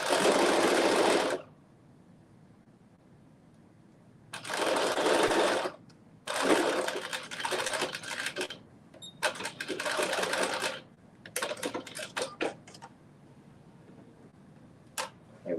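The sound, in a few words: sewing machine sewing a maxi dress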